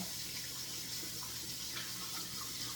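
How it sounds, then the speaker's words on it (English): Hands rinsed under a running kitchen tap, a soft continuous hiss of flowing water with faint splashing, steady and fairly quiet throughout, with no voices. "I'm going to rinse my hands."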